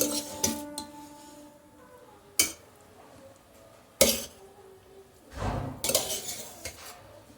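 Metal spoon scraping and clanking against a cooking pot while stirring restaurant-style chicken dum biryani, several sharp separate knocks and scrapes at close range with quiet gaps between.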